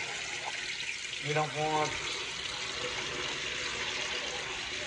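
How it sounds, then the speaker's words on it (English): Water pouring steadily into a Hotpoint top-load washing machine (model HTW240ASK6WS) as it fills, a continuous close rushing hiss that a voice speaks over briefly. "make sure everything's nicely submerged in the water"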